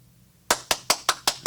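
Six sharp, evenly spaced claps ring out after a brief quiet moment. They are close and distinct, like a small group clapping in unison, with no voices.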